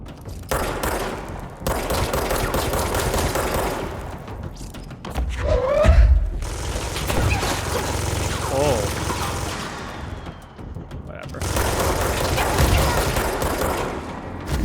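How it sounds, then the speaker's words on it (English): Minigun fire in the action game Control, sustained rapid bursts that roar for several seconds at a time with short gaps between, mixed with thuds and other combat noise. "It's a minigun."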